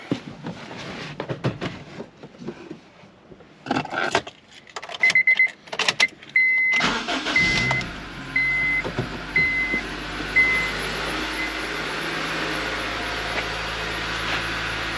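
Clicks and shuffling inside a Honda Civic, a few chiming beeps, then the engine starts and settles into a smooth, quiet idle hum through a stock exhaust with a slight belt squeak.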